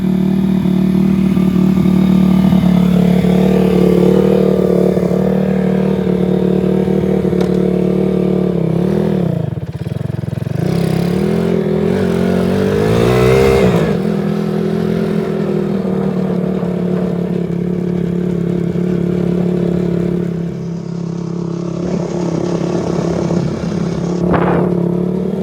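An ATV engine drives a wooded trail, a loud steady rumble close by that rises and falls with throttle changes and bumps over about twenty-five seconds, with no talk.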